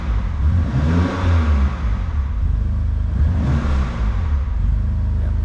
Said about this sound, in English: I don't like revving a cold engine too hard